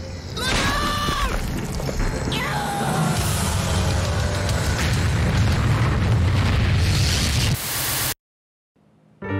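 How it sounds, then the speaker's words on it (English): A huge, loud boom in the horror game Michigan: Report from Hell, followed by a roaring, static-like blast rumble with sweeping tones that lasts several seconds, then cuts abruptly to silence. "I'll make this thing blow up from inside"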